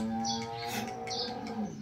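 A cow moos in a long, low, drawn-out call that holds steady for nearly two seconds, close and fairly loud, with faint bird chirps in the background and no talking.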